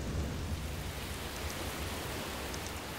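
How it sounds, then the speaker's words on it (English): Sudden rain falls on the Atlantic coast of Brazil, a steady, dense hiss of heavy rainfall with a low rumble underneath and no voices. "rain shows up suddenly"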